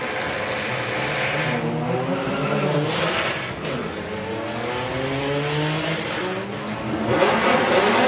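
Drag racing cars, among them Rob Carter's Audi Estate, accelerating down the strip at the STP Summer Nationals, with a continuous droning engine roar whose pitch climbs steadily at a moderate distance.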